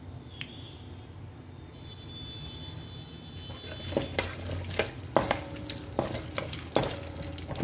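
Faint sizzling of whole spices (cardamom, cinnamon, bay leaf, dried chillies) in oil builds into louder frying, with spoon clinks and stirring scrapes against the pan in the second half.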